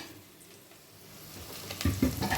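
Coriander powder sautéing in a pan for fish curry gives a faint, soft sizzle that builds toward the end, where a few louder scrapes and clatters of stirring come through close by. No one speaks.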